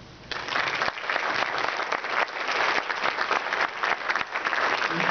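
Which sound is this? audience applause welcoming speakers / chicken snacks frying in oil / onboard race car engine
audience applause welcoming speakers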